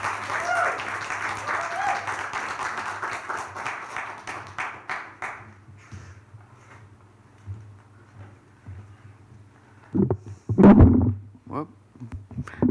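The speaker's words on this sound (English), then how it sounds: "let's welcome her with a hearty round of applause and thanks" Audience applause welcoming a poet-in-residence speaker, a dense wash of clapping that fades out over about six seconds, followed by quiet and then a short burst of voice near the end.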